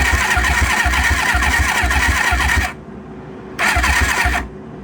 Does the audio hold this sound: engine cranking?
yes